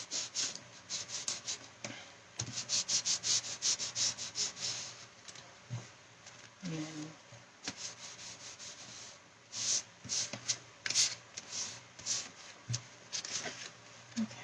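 A folded pop-up card being pressed down and rubbed flat by hand, giving repeated close scratchy rubbing strokes in uneven bursts, with a brief murmur of speech partway through.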